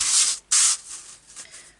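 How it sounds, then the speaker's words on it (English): A bone folder or stylus scoring the paper base of a box, 3/4 inch in from each side, making two loud close scratchy strokes followed by fainter rubbing passes. "I'm going to score 3/4 of an inch on all four sides."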